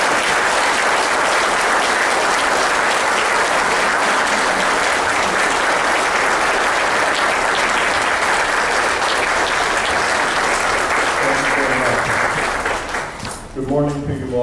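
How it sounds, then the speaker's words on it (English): Town hall audience in Pompano Beach applauding, a long, loud, dense roar of clapping that tapers off near the end as a voice begins speaking. "Ladies and gentlemen, round of applause, please"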